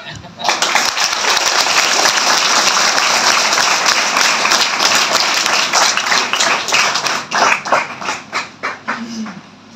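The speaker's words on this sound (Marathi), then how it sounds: "सरांसाठी टाळ्या" An audience at a Savitribai Phule birth anniversary event breaks into loud, sustained applause for the teacher, a dense wash of clapping that swells, holds for several seconds, then thins into scattered claps.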